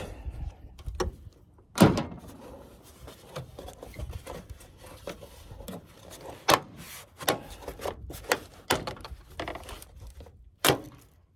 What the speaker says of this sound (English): this thing is just now held on with the plastic pins, and we'll start pulling that out